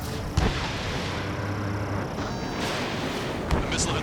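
A missile launch in the Ace Combat 7 flight combat game: a steady roar of rushing jet and engine noise with a couple of short thumps, one near the start and another late, loud and continuous throughout.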